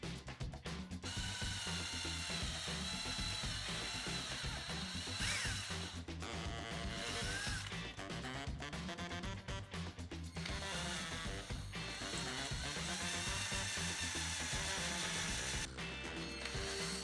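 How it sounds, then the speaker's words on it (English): A power drill bores holes into 3D printed moon lamp pieces, running loudly and steadily for the whole stretch with brief pauses and the whine rising and falling as the bit cuts. "I'll drill some holes on the side and the other end, right in the middle where each pair of pieces will join together."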